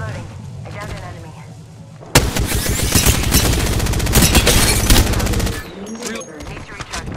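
Sustained rapid gunfire rattles for about three seconds in a shooter game as the character Mirage is shot at, loud and dense, preceded and followed by quieter ambient game sounds with voices.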